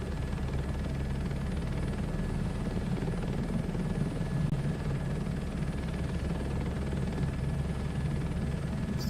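Helicopter flying low at around 60 to 70 in a Microsoft Flight Sim 2024 crop-dusting session, a constant close rotor and turbine drone with a steady low thump and a thin high whine, continuous and alone.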